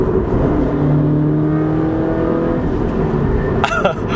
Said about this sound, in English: I love how loud this car gets.